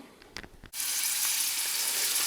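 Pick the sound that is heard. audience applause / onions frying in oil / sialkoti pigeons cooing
onions frying in oil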